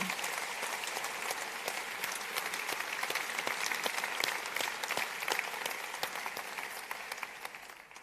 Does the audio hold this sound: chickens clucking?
no